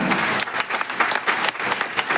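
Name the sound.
audience applause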